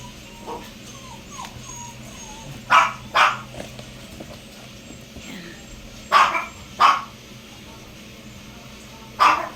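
A dog barks in short sharp bursts, five or six loud yaps in uneven pairs, with softer whimpering and faint chatter in between.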